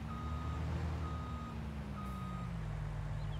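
Truck reversing beeps while parking in the game Farming Simulator 19: three spaced electronic beeps over a steady, loud diesel engine drone with a slowly falling pitch.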